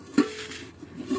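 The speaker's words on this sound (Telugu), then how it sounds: "నీ గిన్నెలా ఇవి?" Metal bowls handled in a home kitchen, giving two short clinks about a second apart, close and fairly loud over a quiet background.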